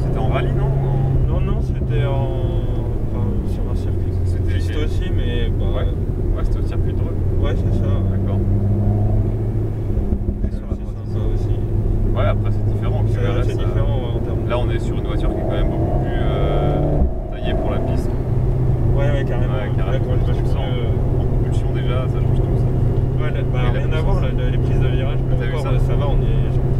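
An Alpine A110S on a circuit gives a loud, steady engine drone from inside the car as it accelerates, with pitch shifts through gear changes and voices talking over it.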